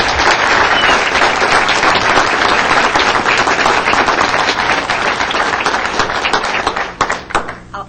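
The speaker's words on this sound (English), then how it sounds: "Round of applause, please." People at a city council meeting give a loud, close round of applause honoring a retiring member, dense steady clapping that tapers off into a few last claps.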